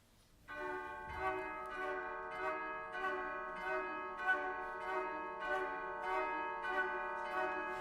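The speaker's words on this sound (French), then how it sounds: "en écoutant aux flûtes et aux cloches les 12 coups de minuit" Orchestral bells in Rachmaninov's Symphonic Dances toll the twelve strokes of midnight, one roughly every 0.6 seconds, over a rich sustained chord of flutes and woodwinds, building a slow, solemn chime.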